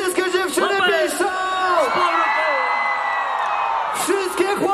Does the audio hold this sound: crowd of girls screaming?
yes